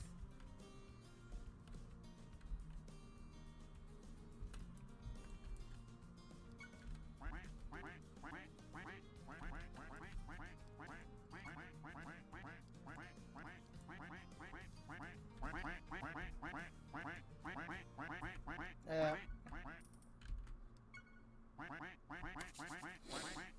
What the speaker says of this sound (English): I don't mind the quacky noise.